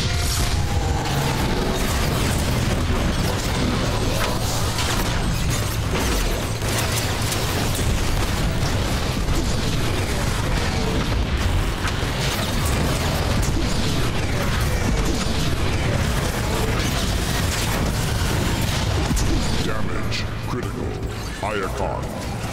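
Explosions and gunfire in the Transformers: War for Cybertron video game, a dense, continuous barrage of booms, bursts and mechanical clatter layered over game music and voices for over twenty seconds.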